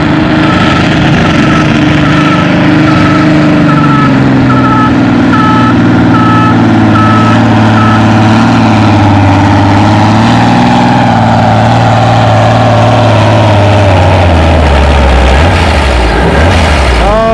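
A Ford pulling tractor roars loud and close at a tractor pull, its engine note dropping steadily through the run, with a faint repeating beep sounding early on.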